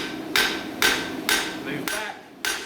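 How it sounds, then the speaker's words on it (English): Five ringing hammer blows land on hot metal at an anvil during blacksmith spreading, evenly spaced about half a second apart, loud and close with a metallic ring after each strike. "a little bit of pulling hammer blow to get my spread"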